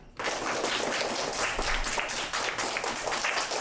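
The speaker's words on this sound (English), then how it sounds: "Simon says, please keep clapping." Elementary school children keep clapping in a classroom, a thick continuous wash of many hands striking together, sustained and fairly loud throughout with no voices on top.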